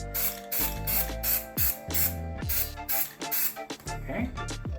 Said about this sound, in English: Quick spray from a distance